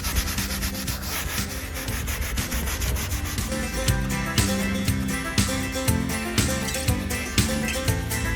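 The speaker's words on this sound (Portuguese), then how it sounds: "a gente vai esfregar para limpar bem" Leather car seat from a Corolla Hybrid being scrubbed clean with a brush, a dense, rhythmic rubbing and scratching sound, close and loud, continuing steadily without talk.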